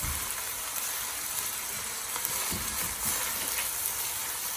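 Chopped onions fry in a pan, a steady, even sizzle with a few soft stirring knocks and no voices.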